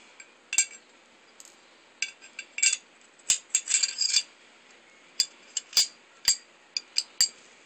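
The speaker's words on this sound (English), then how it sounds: "I'm going to put it back together now, fairly fast." Metal parts of a Ruger SR1911 pistol clink and click together during quick reassembly, a string of sharp close metallic taps and clatters in irregular bursts against a quiet background.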